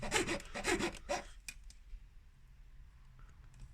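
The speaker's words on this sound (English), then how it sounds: "make sure you're not sawing too much into the plastic" Rapid back-and-forth sawing into a plastic helmet mount, several quick strokes up front, then trailing off into faint scraping and quiet background.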